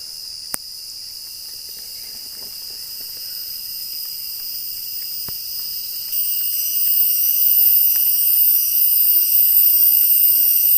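A dense, steady high-pitched cicada drone fills a coffee plantation forest in rural southern Laos continuously, growing slightly louder partway through, with a few faint clicks.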